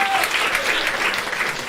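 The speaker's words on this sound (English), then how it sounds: "Yes, I'm permitting this applause break." An audience breaks into a dense burst of clapping during a stand-up comedy set. The applause is loud and close and lasts the whole brief moment, with no talk over it.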